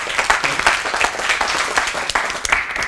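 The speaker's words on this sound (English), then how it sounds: "Everyone, just give a round of applause" An audience at a university talk claps in a dense, steady round of applause that fills the whole moment, loud and close.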